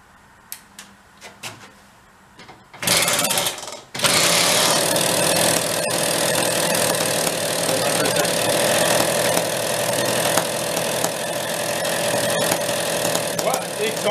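Benelli Buzzer mini bike engine with the choke on and a clogged exhaust pipe, cranked a few times then catching into a loud, steady, raspy running drone that holds near and constant.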